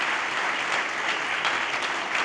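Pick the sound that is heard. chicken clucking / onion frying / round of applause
round of applause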